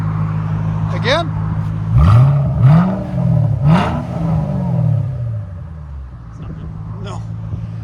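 Close by, a 2009 Ford Mustang Shelby GT500 with its supercharged 5.4L V8 and Black Widow Neighborhater exhaust barks through several quick revs in a row over a heavy rumbling idle, then settles back to a lower idle.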